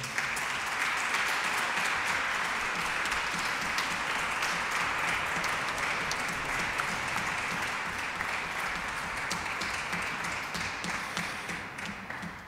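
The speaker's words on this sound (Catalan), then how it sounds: "Un fort aplaudiment per ell" Applause from a concert audience in Barcelona, a steady dense wash of clapping that holds at full strength for about twelve seconds before starting to fade at the end.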